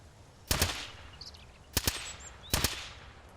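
Three separate bursts of gunfire in the survival game Mist Survival, each a quick double shot, spaced about a second apart and loud against a quiet background, with no talking.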